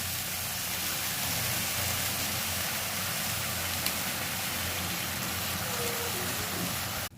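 Fenugreek greens cooking in a pan as they release their water, a dense, steady hiss of sizzling and bubbling that holds evenly throughout.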